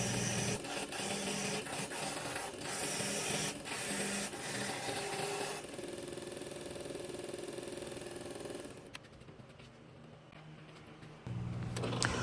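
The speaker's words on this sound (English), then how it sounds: "As you do this sanding, the metal will get hot" Aluminum Star Wars coins being hand-sanded after quenching, giving a steady broadband rasping and rubbing that runs loud for several seconds, then thins out before picking up again near the end.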